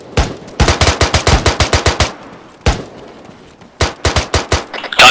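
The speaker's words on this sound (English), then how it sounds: "Is that an enemy shooting an M4?" An M4 rifle firing in the ArmA 3 video game, loud rapid automatic bursts of sharp cracks, a long string, then a single shot, then another burst.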